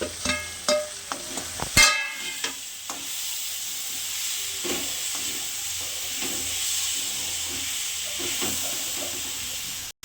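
Ghee sizzles and hisses in a pan for mixed dal after a few clinks of utensils at the start, settling into a steady frying hiss with occasional spatters and stirring sounds, close and moderately loud.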